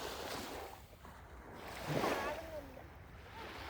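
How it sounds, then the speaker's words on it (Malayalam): Sea waves wash and rumble on a beach in a soft, steady surge, with people's voices talking and calling out nearby over the surf. "തിരമാല വലിയ കടലുകൾ."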